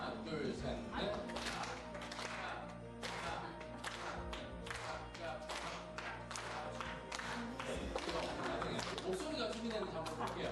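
A church congregation claps their hands together at a Sunday service. Loud, uneven rounds of clapping sound under a voice talking, with shouts mixed in.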